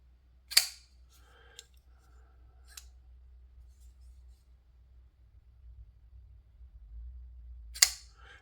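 RIHE Design RH501 folding knife flipped open on its bearings: two sharp, close snaps several seconds apart, with a few faint clicks of handling between them in an otherwise quiet room.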